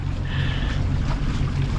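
Steady low drone of a sailing catamaran motoring under engine power at night on the sea near Menton, with constant wind and water rush over the engine hum.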